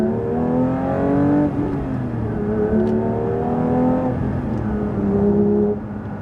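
A 2022 Porsche 911 GT3 (992) engine pulls hard from nearby, with a whining tone that climbs in pitch through several gears. Each shift drops the pitch before it rises again, and the sound fades slightly at the end.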